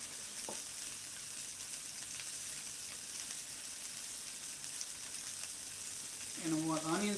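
Steak searing in a hot pan gives a steady, fairly faint sizzle and hiss throughout, with a brief voice near the end.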